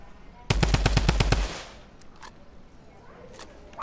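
Rapid burst of machine gun fire in a battle royale video game, about nine sharp evenly spaced shots in roughly one second, loud and close, followed by fainter distant shots.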